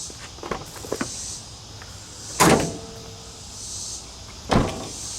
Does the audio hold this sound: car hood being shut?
yes